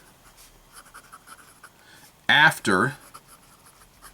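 Quick fountain pen strokes from an IPG nib scratch faintly across paper, then a short burst of talk cuts in over the writing.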